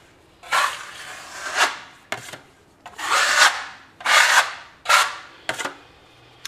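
A filling knife spreads filler plaster across a plasterboard wall with the edge of the blade pressed flat, giving several drawn-out scraping strokes with short pauses between them, close and alone.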